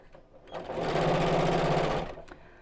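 A sewing machine stitches the edges of a fabric biscornu pouch, running in one steady, loud burst of about a second and a half that rises and then fades. Faint ticks come before it and after it.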